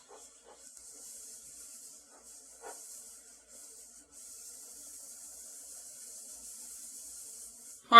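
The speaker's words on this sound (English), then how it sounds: "Spray it down good, then let it sit for a little bit before you wipe it off." Cleaner sprayed onto the bed of a Craftsman benchtop planer, a steady hissing spray with short bursts early on, then a long continuous spray, ending in a louder knock or clatter.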